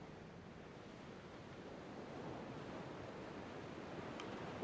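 Steady ocean surf from the video game The Pale Beyond, a continuous soft wash of rolling waves, faint and even throughout with no voices.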